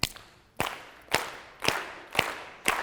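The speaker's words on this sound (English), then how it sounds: "Start clapping." Audience clapping in unison in a steady rhythm, about six sharp claps spaced roughly half a second apart, each ringing in a reverberant hall.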